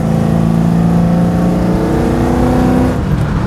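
A car fitted with Edelbrock Pro-Flo 3 EFI accelerates hard to pass, engine pitch climbing smoothly and loudly before easing off near the end, with no talking.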